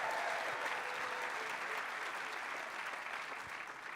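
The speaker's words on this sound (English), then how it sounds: "Please give them all a big round of applause." An audience at an evening book-tour event in Portsmouth, New Hampshire applauds, a broad, steady wash of many hands clapping in a large room, sustained throughout and slowly easing.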